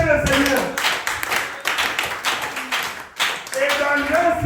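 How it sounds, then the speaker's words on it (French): Congregation in a French-language church clapping for the Lord, rhythmic bursts of hand claps mixed with voices calling out, near and fairly loud. "Applaudissez le Seigneur."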